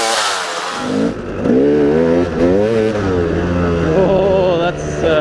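A motorcycle revs hard during a wheelie on a dirt road, its engine note rising and falling in loud, close, wavering surges for several seconds.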